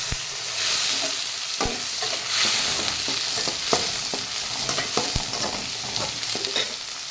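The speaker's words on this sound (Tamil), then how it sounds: "தக்காளியும் வெங்காயம் போட்டாச்சு. இதை நல்லா வதக்கிடுவோம்." Tomato and onion sautéing together in a pan for tomato gravy, a steady nearby sizzle broken by repeated sharp spoon knocks and scraping against the pan, with no one speaking.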